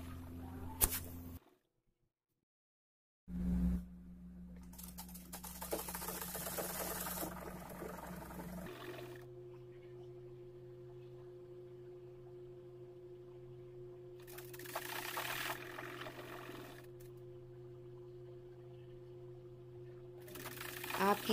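Quiet whirring of a sewing machine stitching lehenga panels cut from an old saree, running in bursts with gaps and background hum, faint and close.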